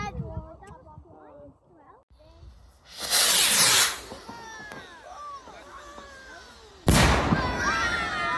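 Fireworks rockets set off from the top of a hill: two loud whooshing bursts stand out, with crackling and whistling streaks trailing after each, heard outdoors at fairly close range.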